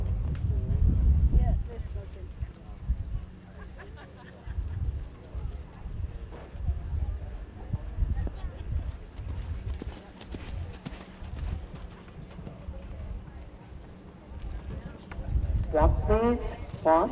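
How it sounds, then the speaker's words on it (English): Horses loping around a 4-H fair arena during a western class, their hooves clip-clopping in a steady rolling rhythm, with an announcer talking over the hoofbeats and a brief whinny near the end. "Lope your horses, please."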